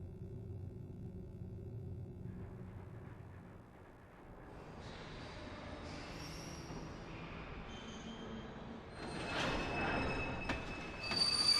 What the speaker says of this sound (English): It's the ghost train.